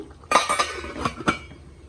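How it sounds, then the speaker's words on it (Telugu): Metal pot lid being set onto a pot of simmering mutton curry, a few sharp clinks and clatters of metal on metal, close and alone. "మూత పెట్టి సిమ్లో మగ్గ పెడదాం"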